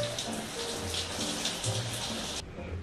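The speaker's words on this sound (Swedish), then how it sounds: "jag ska bara hoppa in i duschen, duscha av kroppen" Shower water running in a home bathroom, a steady broadband hiss of spray that cuts off abruptly near the end, with no talk over it.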